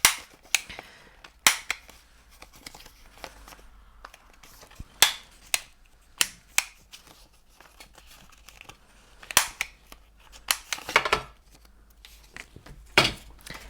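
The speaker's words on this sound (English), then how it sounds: "I'm going to take my corner punch on this one, and I'm just going to punch these corners out." Sharp clicks from a corner punch cutting out paper corners, about a dozen crisp snaps spread unevenly with short gaps, close up with no talk.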